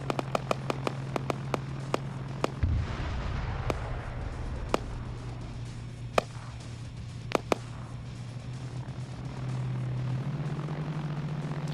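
Military planes in a video game drone steadily overhead, a sustained engine hum that shifts pitch near the end, punctuated by scattered sharp gunshot cracks.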